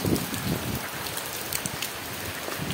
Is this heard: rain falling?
yes